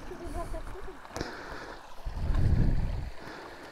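Water flows in a typical upstate New York creek in the deep woods, a soft continuous gurgle and rush heard outdoors at moderate distance, with a brief sharp knock and a louder low swell of rushing water near the end.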